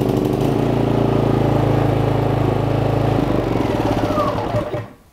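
A MaXpeedingrods MXR 3500W dual fuel portable inverter generator with electric start runs close by, giving a loud, steady engine drone with a buzzing edge that drops off and fades away at the very end.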